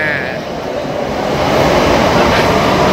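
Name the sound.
metro train departing from the station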